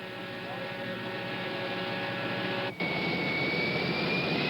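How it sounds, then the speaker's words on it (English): Chartered Boeing 707 jet airliner used by Led Zeppelin on their 1973 tour: a steady, broad jet roar with a thin high whine, holding level throughout with a brief dip near the end. "To get around, the Zeppelin uses a chartered 707, the kind of plane President Nixon uses."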